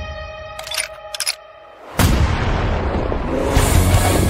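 A sharp, loud gunshot from World of Warcraft sound design cracks suddenly after a few short tonal chimes, then trails into a sustained rumbling roar and debris wash.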